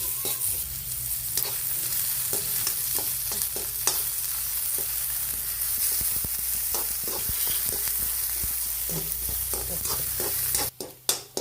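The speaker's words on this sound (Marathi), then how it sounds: "कांदा चांगला लाल भाजून घ्यायचा आमटीला थोडस तेल टाकायचं" Onion being roasted until well browned in a little oil for a Maharashtrian katachi amti, with a steady close sizzle under frequent spoon scrapes and stirs across the pan, a few clanks at the very end.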